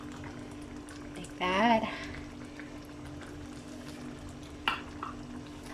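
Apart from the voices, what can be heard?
pav bhaji simmering in a pan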